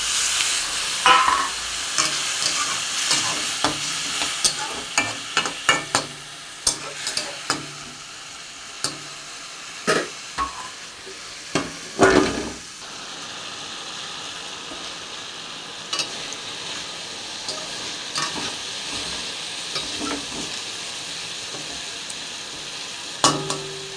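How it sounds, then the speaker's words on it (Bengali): Pieces of salted, turmeric-rubbed parshe fish frying in hot oil in a kadai, with a steady close sizzle broken by sharp spatters and occasional scrapes and clicks of stirring throughout. "নাড়াচাড়া দিয়ে দিলাম, এতে বাড়তে হবে।"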